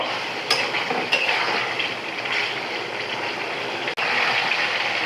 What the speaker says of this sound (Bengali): মশলার সঙ্গে 2 থেকে 3 মিনিট কষিয়ে নেব